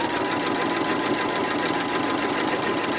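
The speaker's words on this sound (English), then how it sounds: "that's one reason why I'm sewing with the dark green side up." Sewing machine running continuously as it stitches a fabric placemat, a steady mechanical whir with fast rhythmic needle chatter, close and loud throughout.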